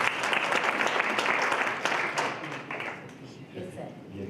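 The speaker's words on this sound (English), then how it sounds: "Can we give him a round of applause?" A round of applause from the audience at a business panel discussion, many hands clapping densely and evenly before tapering off toward the end.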